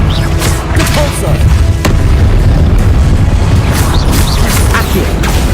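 A Repulso spell is cast in the Hogwarts Legacy video game, producing loud, dense booming blasts over a constant rumbling, mechanical game soundscape with sharp pops scattered throughout.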